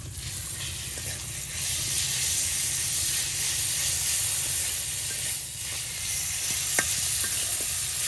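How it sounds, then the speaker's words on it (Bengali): Onions frying with salt in a pan in a rural kitchen, a loud, steady close-up sizzle and hiss that runs unbroken, with a few faint scrapes of stirring and no voices. "আর এখন পেঁয়াজগুলো লবণের সাথে ভাজি ভাজি করা হচ্ছে।"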